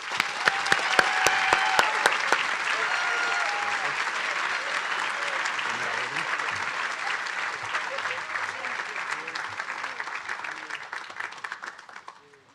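Sustained applause from students, parents and faculty at a school commencement prize night, honoring the prefects. Loud, dense clapping starts with a few sharp nearby claps, then holds as a broad wash that slowly thins and fades out near the end.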